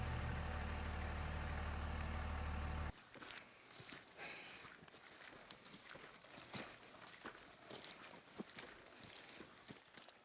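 A truck climbs a mountain road at first light in the Oregon Coast Range, its engine drone steady and loud for the first few seconds before dropping to a rougher, quieter rumble with bumps and rattles from the cabin.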